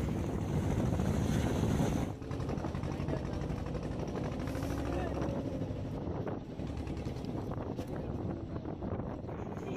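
Fishing boats head out to sea at night, a continuous engine drone with wind buffeting the microphone and water rushing past, while someone talks over it.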